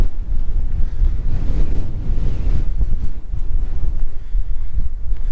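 Strong wind buffets the microphone at an open World War II tank firing range, a loud, continuous low roar with gusting surges throughout and no voices.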